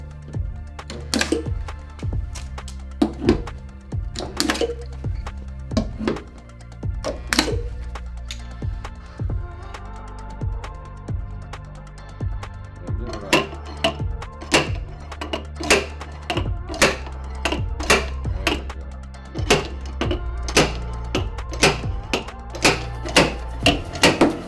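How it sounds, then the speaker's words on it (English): Sharp metallic hammer taps strike the high spots of a dented Mazda Miata NB body panel in irregular bursts, some quick runs and some spaced hits, close and clear with no voices. "you saw me tapping on the high spots there with the hammer"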